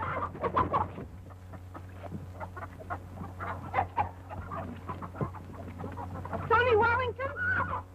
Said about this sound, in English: Oh, he can't hurt them chickens.